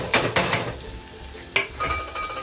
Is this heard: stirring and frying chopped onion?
yes